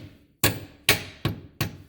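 Four sharp hammer taps on a bolt in the front suspension of a 2015 Kia Forte 5 during wheel bearing and control arm work, evenly spaced and close, each a crisp knock with a short ringing decay.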